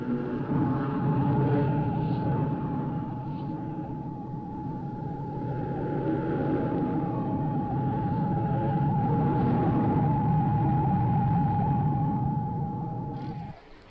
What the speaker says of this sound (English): in its very first appearance, it makes noises which sounds like religious people chanting.